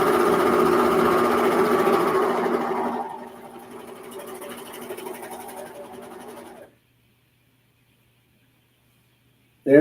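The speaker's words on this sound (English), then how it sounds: "So if I want to sew a curve at the end here," A serger sewing machine stitches a curve in fabric, a loud steady whirring hum that drops to a softer run, then stops and leaves near silence.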